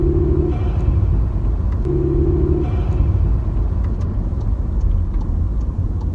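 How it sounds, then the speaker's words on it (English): A VW Polo 6C TSI turbo petrol with a Tweek air filter gives a loud, steady intake rumble and engine drone throughout, with two short tonal bursts near the start that fit turbo dumping, and no voices. "I can hear the turbo dumping more than what I can hear the intake rumbling"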